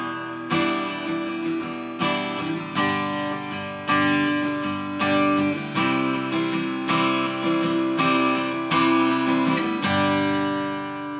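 Acoustic guitar strums the second part of the verse of a song, steady rhythmic strumming with regular accented chord hits, played alone up close at a moderate level.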